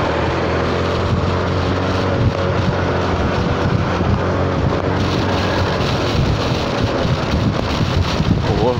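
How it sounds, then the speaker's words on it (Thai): Hot wind rushes past while riding a Honda Forza 300 scooter, a loud, constant roar of wind noise buffeting the microphone over the low hum of the engine. "ตอนนี้ฟังเสียงลมไปแป๊บนึงนะ"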